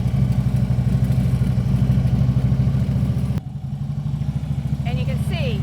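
A motorcycle rides slowly without the rear brake, giving a loud, steady, close engine putter with a brief dip partway through and a few faint squeaks near the end.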